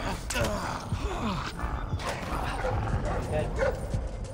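In the stealth game Splinter Cell Blacklist, a guard dog barks, yips and whimpers as it attacks, mixed with creaking mechanical game sounds, loud and continuous without talk.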